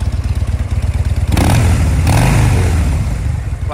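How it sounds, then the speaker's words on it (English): A 2014 Harley-Davidson Dyna Street Bob with a 103 engine idles with a loud, lumpy V-twin pulse, then revs hard twice, the throttle blips swelling and falling back to a rumbling idle. "Bike sounds great."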